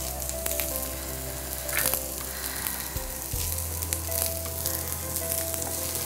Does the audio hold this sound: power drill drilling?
no